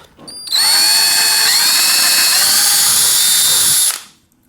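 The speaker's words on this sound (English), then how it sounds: "I have a 3/16 inch drill bit on here" A power drill with a 3/16 inch bit drills a hole, whirring steadily for about three seconds after a brief start-up, loud and close, then winding down to quiet.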